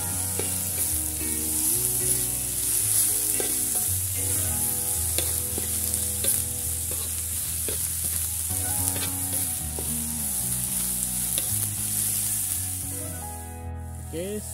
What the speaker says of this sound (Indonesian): Kita gaul-gaul dan ubinya ataupun pucuk ubinya.